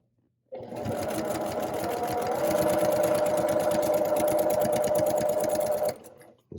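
An electric sewing machine runs steadily, stitching and back-stitching New York Beauty quilt pieces up to a pin. A continuous close whirring hum is heard, alone, for about five seconds before it stops.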